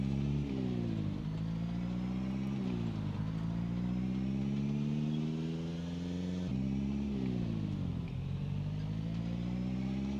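Car engine in Project Zomboid drives steadily, a close, loud droning motor climbing in pitch through gears with repeated shifts and dips, heard alone.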